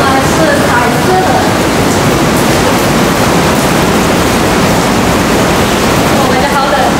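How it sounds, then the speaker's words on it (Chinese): Water rushes loudly through a cave in Guizhou, a constant roaring hiss that fills the space at close range and never lets up. "我听到这个水声越来越大了"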